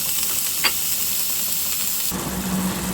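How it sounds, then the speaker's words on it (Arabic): Onion sizzling in a spoonful of hot table oil in a frying pan gives a steady broadband hiss, close and fairly loud, that grows fuller and harsher partway through with a faint low hum underneath. "في مقلاة ساخنه، بعد ما درنا فيها معلقه صغيره ولا كبيره ديال زيت المائده، كنوضعوا البصل ديالنا يتشحر"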